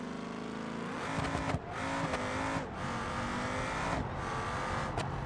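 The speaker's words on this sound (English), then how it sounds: "To hear the new tire sounds, you need to completely lock up, as when doing a burnout" Tires squealing under locked-up braking in BeamNG, a steady, loud car engine and tire-noise roar with a few short breaks, no talk.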